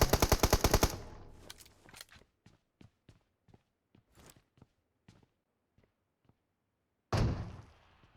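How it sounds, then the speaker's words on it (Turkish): PUBG Mobile gunfire opens with a loud rapid automatic burst, thins into scattered single shots and thuds, then ends with another sharp close burst. No one speaks. "Sana sıkıyor Ahmet"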